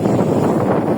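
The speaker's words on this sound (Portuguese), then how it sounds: "muito vento" Strong wind buffets the microphone at sea aboard a small fishing boat, a steady roaring rumble with no pause and no voices.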